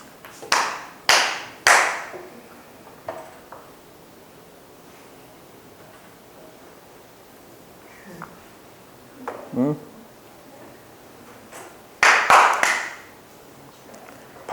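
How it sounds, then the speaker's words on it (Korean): A few brief, scattered bursts of hand clapping from students in a Korean geometry classroom, sparse and half-hearted, clustered near the start with another short flurry near the end, separated by a quiet room with faint shuffling. "박수 쳐주고 시작할게요."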